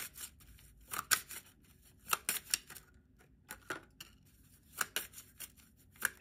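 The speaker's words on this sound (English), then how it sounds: "give me another card for the Romance Angel deck for Scorpio" Cards from a Romance Angel oracle deck are shuffled and drawn in quiet, close-up bursts of crisp papery riffles and slaps, each a second or less, separated by short pauses.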